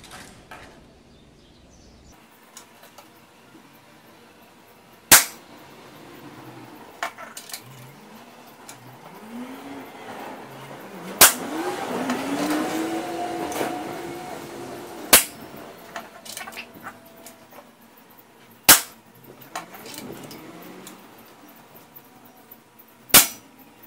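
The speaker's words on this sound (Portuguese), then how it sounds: "Vou dar um tiro um pouco mais embaixo para ver se o cronômetro está marcando" A 9mm PCP air rifle fires several sharp, loud shots over a chronograph, spaced a few seconds apart, each a crisp crack against a quiet outdoor background with faint ambient noise between.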